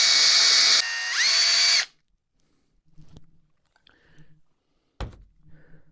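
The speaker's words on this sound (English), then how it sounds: "I'm going to drive this screw in place" A power drill drives a screw into a boat skeg in a loud, close whirring burst of about two seconds that drops in pitch and stops, followed by quiet handling knocks and taps.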